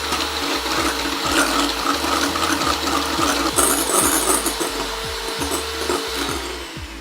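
A mixer or whisk beats aquafaba, the liquid from canned chickpeas, into a stiff vegan meringue for ice cream, giving a steady loud whirring hum with rhythmic low knocks of the beaters against the bowl, alone with no talking.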